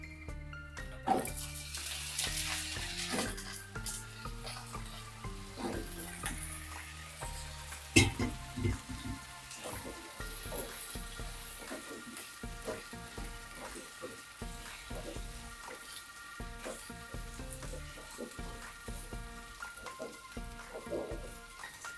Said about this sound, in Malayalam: ഈ കഴുകി വെച്ചേക്കുന്ന അരിഞ്ഞ് വെള്ളത്തിൽ ഇട്ടേക്കുന്ന കിഴങ്ങില്ലേ അതിട്ട് കൊടുക്കാം